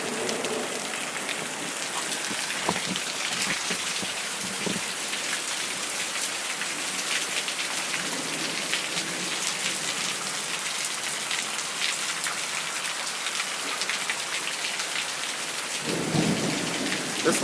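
Heavy rain with hail in a thunderstorm, a dense continuous hiss of drops drumming on surfaces, with occasional low thunder rumbles and a stronger burst near the end.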